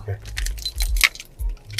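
Keys for a Honda CR-V Hybrid jangling up close in a few quick metallic bursts, with low rumbling handling noise and faint talk in the background.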